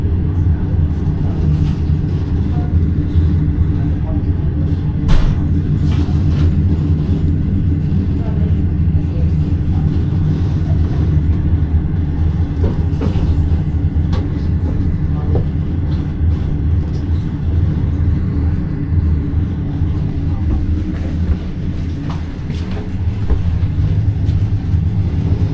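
Steady low rumble of a green-skinned soft-sleeper overnight train rolling along the tracks, a continuous loud drone with faint rattles and occasional knocks, and a few murmured voices in the carriage.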